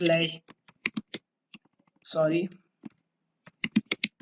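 Someone types a command on a computer keyboard with quick, irregular clicking keystrokes, close and clear, mixed in with brief bursts of speech.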